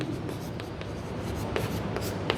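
Chalk writing out a circumference formula on a board during a class 10 mathematics lesson, a series of close scratchy taps and strokes in an irregular rhythm, with no talk.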